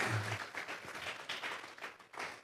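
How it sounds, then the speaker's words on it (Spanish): A church congregation clapping and applauding together, a moderately loud, continuous patter of many hands sustained for a couple of seconds at a worship service. "Le vamos a regalar ofrenda de palmas al Dios de la gloria"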